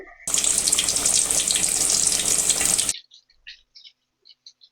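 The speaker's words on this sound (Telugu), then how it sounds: "ఆయిల్ అయితే మనకి వేడైపోయింది ఇప్పుడు చేపనైతే ఇందులో వేసేసుకొని ఫ్రై చేసుకుందాం" Fish dropped into hot oil and frying in a pan: a loud, close, steady sizzle that starts suddenly, runs for about two and a half seconds, then stops, leaving faint scattered crackles.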